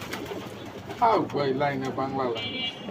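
Pigeons coo in a loft, several throaty, rolling calls close by while someone talks over them.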